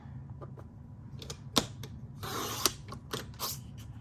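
Red plaid paper is cut on a paper trimmer, with close clicking and ratcheting mechanical sounds, a few sharp snaps and a brief scraping slide of the blade, quiet and alone without talking.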